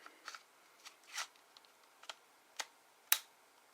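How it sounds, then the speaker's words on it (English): A Joy-Con controller sliding and clicking into a new Nintendo Switch console, heard as several small, faint plastic clicks and taps spread irregularly, ending in one sharper snap, close in a quiet room. "I don't know if you guys heard that little clicking noise."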